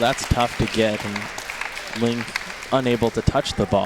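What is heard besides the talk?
Texas crowd applauding at table tennis match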